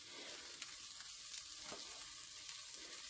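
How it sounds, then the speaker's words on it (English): Tuna steaks sizzle steadily on a hot charcoal grill, a close, continuous crackling fry with no voices. "So we've got the grill hot. We're going to cook the tuna steaks first."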